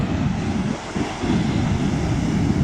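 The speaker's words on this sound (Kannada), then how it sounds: "ಅಲೆಗಳು ಹೆಂಗೆ ಎದಳ್ತಾ ಇದ್ದಾವೆ ಅಂದರೆ ಗಾಳಿಗೆ" Ocean surf rolls and crashes at a beach under heavy wind buffeting the microphone, with light rain falling, a continuous roar with no voices.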